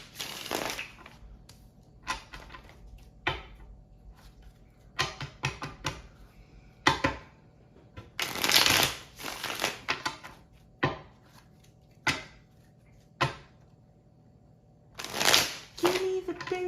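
Tarot cards being shuffled in quick bursts of riffling and flicking, separated by short pauses, close up and fairly quiet with no talk over them.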